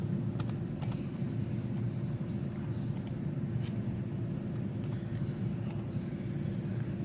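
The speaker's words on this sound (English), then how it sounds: "right here we can type in the year" A computer keyboard being typed on, a few light scattered keystrokes over a steady low hum.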